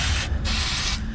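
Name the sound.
spraying penetrating spray on truck threads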